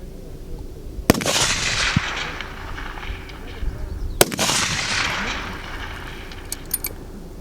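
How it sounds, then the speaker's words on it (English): Two sharp rifle shots crack out at a 500 m shooting range, a Palma target rifle fired about three seconds apart, each followed by a rolling echo, with faint background noise between. "Nice shot, Michelle."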